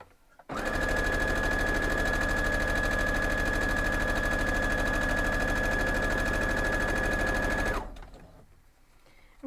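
A sewing machine stitches a quilt block in one continuous steady run of about seven seconds, a loud close mechanical whir with a constant hum, stopping abruptly into quiet.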